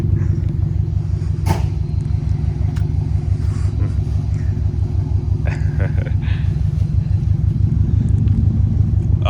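A Subaru WRX STI's engine rumbles low and steady while driving, with people talking over it.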